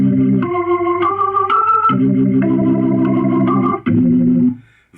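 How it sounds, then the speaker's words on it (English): An organ from the Kevin Keys piano plugin plays sustained chords and a short melody, full and steady, ending with a brief fade. "the first instrument you'll see is the organ,"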